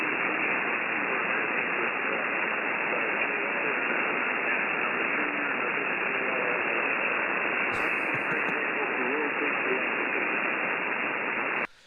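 Steady, loud hiss of static fills a 10-meter ham radio receiver as the station fades out, with a brief burst of higher tones near the end before the noise cuts off.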